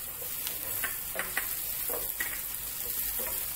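Chopped capsicum sizzling in a pan with golden brown onions, a steady soft frying hiss with scattered crackles and stirring scrapes, close up and fairly quiet.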